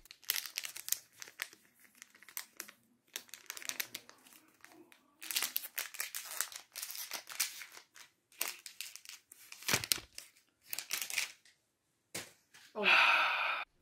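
Plastic packaging of a Xiaomi Mi Box S remote control being crinkled and torn open, with bursts of crackling and rustling separated by pauses, close up, and a louder crinkle at the end.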